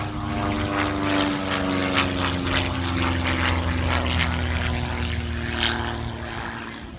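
A two-seater propeller aircraft at the Tyabb airshow, its engine droning loud and steady with a strong humming tone for several seconds before easing off slightly at the end, no voices present.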